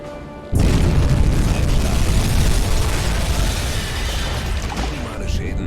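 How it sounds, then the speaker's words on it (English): A torpedo exploding against a ship in the submarine game UBOAT: a sudden heavy boom that breaks in and rolls on as a long, loud, rumbling roar. "maybe render back in when the torpedo hits it."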